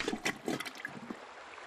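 Water splashes and trickles from a garden hose in the Little Critter iPad game, arriving in short bursts over the first second, then fading to a soft, steady trickle.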